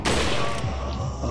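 A dense burst of loud, overlapping gunfire crackles continuously for a moment, rapid shooting in the video game Resident Evil 4.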